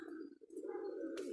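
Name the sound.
cream-colored female pigeon cooing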